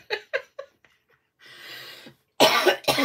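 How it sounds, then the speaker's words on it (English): Several sharp coughs close to the mic, three quick ones then faint bits, a stretch of breathy hiss, and two more loud harsh coughs at the end. "I'm usually not coughing like this."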